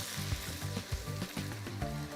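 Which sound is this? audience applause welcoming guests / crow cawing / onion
onion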